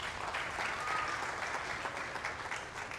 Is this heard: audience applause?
yes